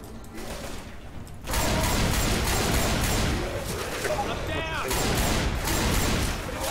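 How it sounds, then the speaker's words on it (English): Dense, continuous video game gunfire aimed at a tank, with sustained rapid shots and mechanical clatter filling the mix while a player talks over it. "Everyone shoot the tank!"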